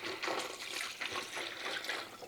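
Tap water pours into a kitchen sink while a big pot is filled for canning tomatoes. The flow is a steady, splashy rush with surging pulses, close by and with no talking.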